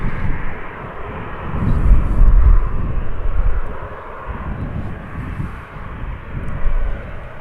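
Jet aircraft engine roaring on the runway at Manchester Airport, a loud continuous rumble that swells and eases without pause, with no voices over it.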